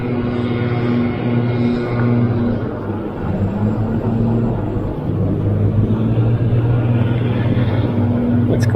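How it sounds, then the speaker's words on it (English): Cars pass on a road beside a fat-tire electric bike that has stopped, a steady, fairly loud engine and tire hum that swells and eases slightly as the vehicles go by, with no talking. "Wait for these cars to pass."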